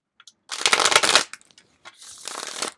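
A deck of playing cards is shuffled by hand twice in quick succession, close and crisp, with a rapid riffling rush followed by a softer second riffle.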